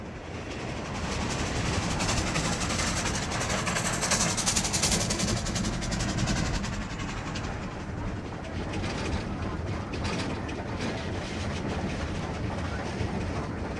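A train rumbles steadily past at close range, a dense, continuous roar with rhythmic clatter of wheels throughout.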